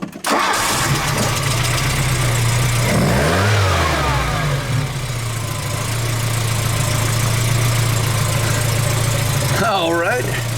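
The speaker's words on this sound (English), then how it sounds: "start the engine" Car engine cranking briefly and catching, then settling into a steady low idle during a battery test, with a person talking over it partway through.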